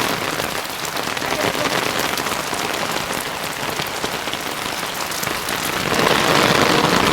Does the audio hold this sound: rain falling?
yes